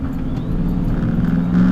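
The XO-1 car roars at high speed in a video game, its engine a loud, sustained drone up close that swells near the end, with no talk over it.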